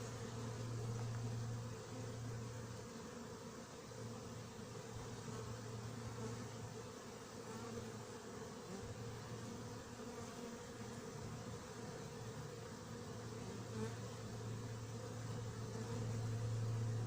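A hornet hovers near a beehive while hunting bees, giving a steady close buzzing drone that swells and dips over a constant low background hum.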